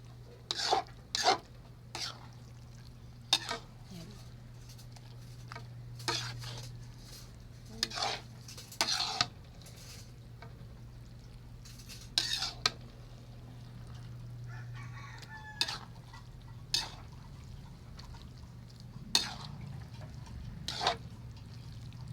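Spaghetti sauce being stirred in a pan, with scattered sharp scrapes and clinks of a utensil against the metal over a low steady hum, while a rooster crows in the background.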